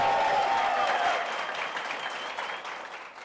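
Sustained applause from a sizeable indoor studio audience, dense and steady, gradually tapering off toward the end with no talking.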